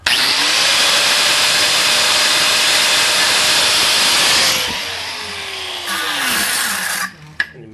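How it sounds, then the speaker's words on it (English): An angle grinder cuts a slot into a bolt, a loud high whine that winds down in pitch as the disc slows, then a brief second burst and a clunk. "You just take the grinder"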